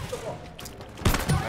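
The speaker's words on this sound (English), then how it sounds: "I'm gonna keep shooting it" Gunfire from shooting in the video game It Takes Two: a quieter stretch and then a loud burst of rapid shots near the end, with a voice talking over the game sound.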